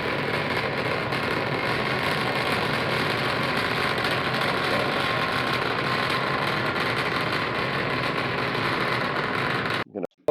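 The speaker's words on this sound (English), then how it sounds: "Raptor engine." A SpaceX Raptor rocket engine fires in a steady, loud, broadband roar that holds unbroken for about ten seconds before cutting off abruptly at the end.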